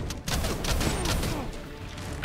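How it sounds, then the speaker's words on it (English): Barrage shot bow skill firing in Dragon's Dogma 2, a dense burst of rapid overlapping shots and impacts sustained for about two seconds, loud and busy with game effects behind it. "upgrading that barrage shot is quite powerful"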